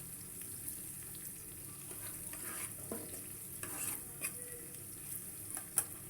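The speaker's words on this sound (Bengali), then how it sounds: "তো পেঁয়াজটা লাল করে ভেজে নিব।" Onions fry in oil for a country chicken curry, giving a faint, steady sizzle broken by a few light spatula scrapes, with no voices.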